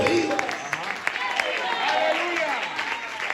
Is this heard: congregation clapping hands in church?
yes